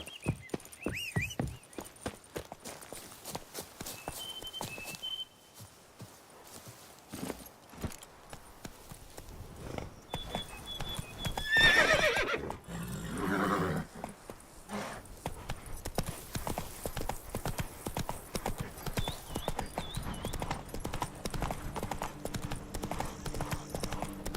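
Roach the horse from The Witcher 3 gallops with steady, rapid hoofbeats that run nearly throughout, with a brief faint whinny partway through.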